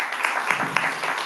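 Audience clapping at a morning session of a Chicago writers' conference, a brief steady burst of many hands close by with no voices.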